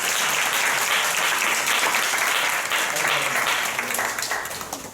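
A church congregation applauds to welcome and congratulate a couple, with dense, sustained clapping that fills the room and fades slightly toward the end.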